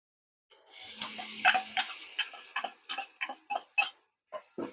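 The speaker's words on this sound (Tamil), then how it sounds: "இப்போ இஞ்சி பூண்டு போட்டுடலாம்." Ginger-garlic and mutton keema sizzle in a pan after a moment of silence, with a run of quick, distinct scraping stir strokes, close and fairly loud.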